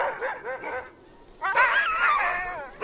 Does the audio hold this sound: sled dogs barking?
yes